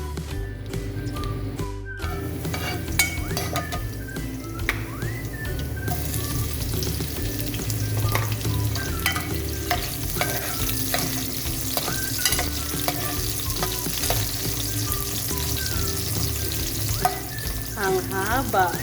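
Garlic fries in hot oil in a pan for a Filipino ginisang talong dish, giving a steady close sizzle and crackle that runs throughout, with occasional stirring clatter and faint background sounds but no clear talking.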